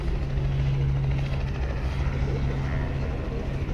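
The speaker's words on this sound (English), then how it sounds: "Going to hear the choppers in the background." Helicopters at the Aero Expo UK 2017 air show, a loud steady rotor drone with a low throbbing hum running throughout, close and continuous, with faint crowd noise mixed underneath.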